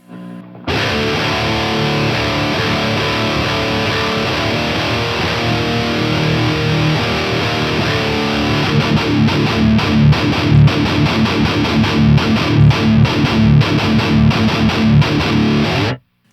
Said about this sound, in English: This pre adds a really nice character to these distorted guitars.